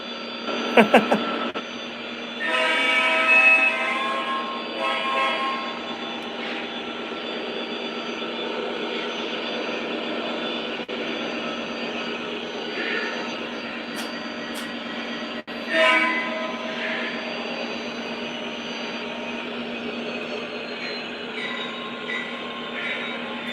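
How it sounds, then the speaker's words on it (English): A model train plays continuous droning locomotive engine sounds from two engines at once, layered tones and an occasional horn-like note, steady throughout at moderate volume. "it's playing sounds from both engines"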